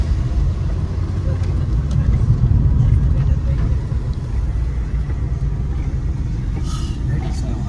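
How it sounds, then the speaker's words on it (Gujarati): A car drives along a road toward a waterfall, giving a steady, close engine and road rumble that holds at an even loudness throughout. "ડ્રાઈવર અત્યારે પહેલા જ ચાલવી રહ્યા છે ગાડી."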